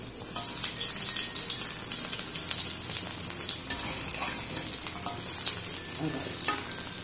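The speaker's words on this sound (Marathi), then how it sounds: "आता याला पण थोडासा आपण रवा लावा असा आणि असं तेलात सोडून पलटी करून घेते।" Beetroot cutlets coated in semolina fry in hot oil, giving a steady, close, continuous sizzle that carries on without pause and without any talking.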